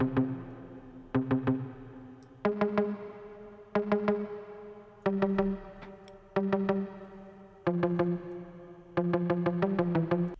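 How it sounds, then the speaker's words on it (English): Palm-muted guitar plays short, clipped chord stabs in a syncopated repeating pattern for a reggaeton-style beat, dry and close with gaps of silence between phrases and no speech. "the next element was a muted guitar, and that sounds like this."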